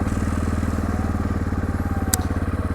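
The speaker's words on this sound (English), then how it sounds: "This is phenomenal engine braking on the Honda." A Honda ATV engine under engine braking gives a low, rapidly pulsing throb at steady speed, close and loud, with a brief click partway through.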